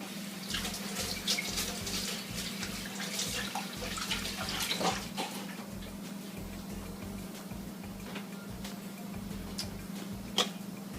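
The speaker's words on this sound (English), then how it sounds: "Let me rinse my hand off real quick." Water from a running kitchen faucet rinses hands over a sink, a steady close splashing stream with a faint low hum and soft ticking underneath.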